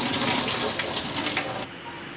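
Boiled corn kernels poured into a strainer, with water gushing and splashing steadily close up for about a second and a half before it drops to a quiet trickle.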